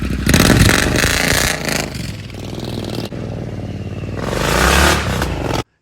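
A loud Triumph motorcycle engine revving hard up close, its roar swelling and dipping over several seconds before cutting off abruptly.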